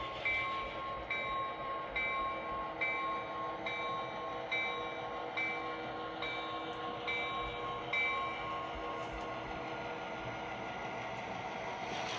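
A steady rumbling freight train with a caboose pulling out during switching at a mill, with repeated high metallic squeals and clanks in a regular rhythm, fading as it moves on.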